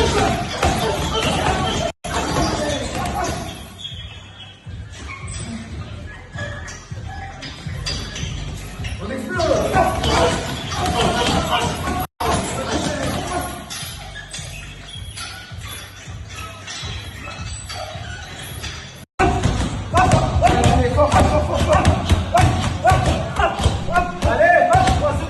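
MMA fighters pounding heavy bags in a training gym, a dense run of thuds and slaps amid shuffling and background voices, loud and continuous with a couple of abrupt cuts.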